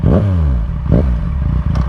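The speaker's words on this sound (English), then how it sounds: "This has an M4 slip-on exhaust." A Yamaha MT-09 motorcycle engine fitted with an M4 slip-on exhaust runs close and loud, blipped through a few sharp revs with rising and falling engine tones over a steady idle rumble.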